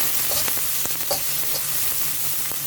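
Finely chopped onions fry in a pan with a steady close sizzle, dotted with small crackles and pops from the oil, and no one speaking.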